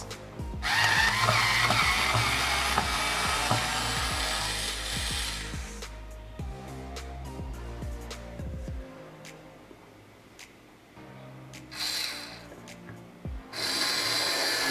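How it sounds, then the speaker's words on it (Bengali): A small 4V cordless drill drives screws into old wood, its motor whirring loudly for several seconds, then stopping and starting in short, strained bursts. "এরপর চেষ্টা করেছিলাম পুরনো কাঠে স্ক্রু লাগাতে"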